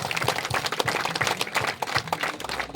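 Applause from a gathered crowd honoring donors at a Telugu devotional gathering, a dense, steady patter of many hands clapping at close range for a few seconds without pause.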